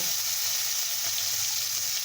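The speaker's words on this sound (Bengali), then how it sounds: "লাল লাল করে এবার আমি করলাটা ভেজে নেব" Sliced bitter gourd sizzles in hot oil in a wok, a steady, close, even hiss with no pauses or voices over the short stretch.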